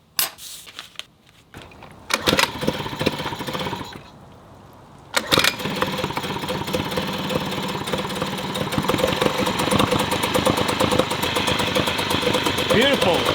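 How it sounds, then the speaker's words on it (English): A boat's backup engine, freshly serviced with new spark plugs and impeller gaskets, cranks and catches, then settles into a steady, fairly loud mid-pitched idle that runs on alone. "we're still going to need the backup engine. So it needs its annual service"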